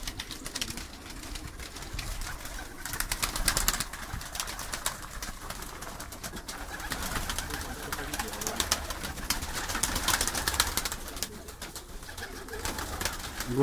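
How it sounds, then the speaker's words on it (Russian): Baku broad-tailed pigeons in a loft make soft, repeated cooing, layered and continuous at moderate distance over a busy background. "Товарищ еще держит бакинских голубей."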